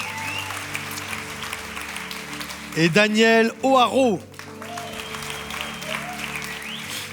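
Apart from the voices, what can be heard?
audience applause for guests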